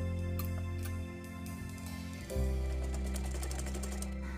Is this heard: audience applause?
no